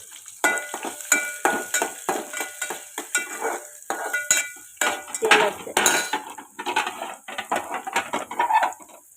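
Chilies and onion tossed into a pan with garlic and fried, with a crackling sizzle and repeated sharp metal clinks of a spoon stirring. The sounds are close, lively and uneven, with no talk.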